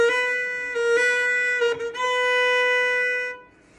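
Bowed string notes from Minuet in G, a sustained singing tone that slides up to a new pitch midway, then holds steady before fading out; played alone and close.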